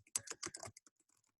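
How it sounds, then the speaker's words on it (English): Quick bursts of clicking keys on a computer keyboard, several rapid strokes close together that thin out into lighter, scattered taps, quiet and close with no voices. "Hello, I'm typing."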